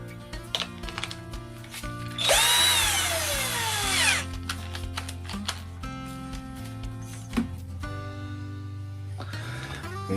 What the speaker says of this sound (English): drill this.